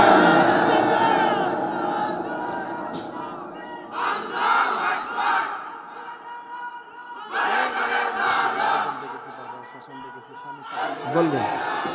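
A huge crowd at a religious rally roars a chant of takbir in repeated loud bursts, each swelling collective shout separated by brief pauses, close and powerful.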